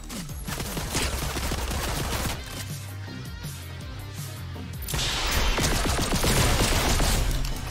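Rapid bursts of gunfire from a bot in the Fortnite video game, dense crackling volleys running throughout with a louder, heavier stretch near the end, no talk over it.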